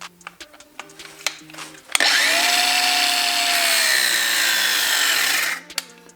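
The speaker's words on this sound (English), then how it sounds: "I just use a grinder to cut off the hose" An angle grinder cuts off a hose in a garage while working on a twin-turbo LSX Mustang, a loud, continuous high whine lasting several seconds, with scattered clicks and handling noises before and after.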